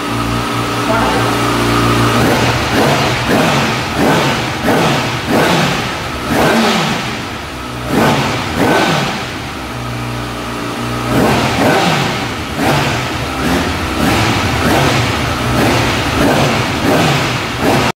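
A 2019 Kawasaki ZX6R sport bike's exhaust revs hard and loud in repeated surges, dropping back between blips, with some background voices.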